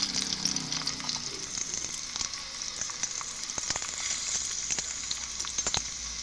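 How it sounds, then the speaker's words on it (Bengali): Chicken pieces fry in hot oil in a wok, giving a steady close sizzle with scattered crackles and pops throughout, loud and continuous with no talking. "ভালো করে উল্টে পাল্টে ভেজে নেব।"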